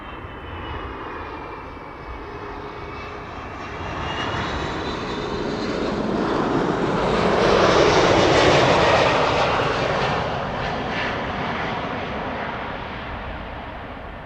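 A Delta Airlines Airbus A330 airliner arriving at Amsterdam Schiphol Airport on a sunny day, its engine roar swelling steadily as it approaches, peaking loud overhead, then slowly fading, with no voices.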